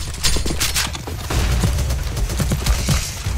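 Sustained rapid gunfire from CS:GO zombie escape mode on the Rampage map, a dense loud fusillade of overlapping shots with no pause across the whole stretch.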